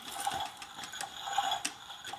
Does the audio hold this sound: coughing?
no